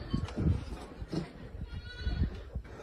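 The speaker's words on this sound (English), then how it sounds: "You hear the desperate cries of a sheep." Sheep bleating in distress at night at a campsite during a bear attack, several strained cries in uneven bursts, fairly close and loud over a low rumbling background.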